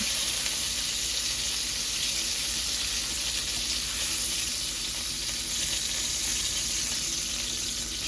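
Pork chops browning in a hot frying pan give a steady, even sizzle that holds at one level throughout, with no voices over it.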